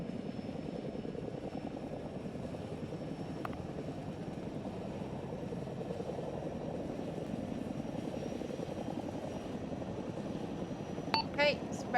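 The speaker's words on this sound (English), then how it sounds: "I'm approaching the Chinook." Chinook helicopter in a military video game, a steady low rotor and engine drone running continuously throughout, with radio-style talk over it and a brief sharper sound near the end.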